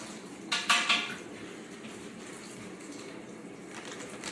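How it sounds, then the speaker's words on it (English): Hot water running from a tap while making an iced matcha latte, a steady faint gush throughout, with a few clinks of dishes near the start. "let me turn my hot water back on too, so it get hot"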